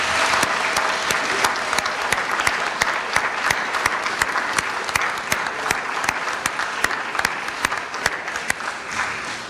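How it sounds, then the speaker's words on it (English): An audience at a dental school white coat ceremony claps steadily throughout, with dense applause and sharp individual claps standing out, fading only slightly toward the end. "give them a round of applause"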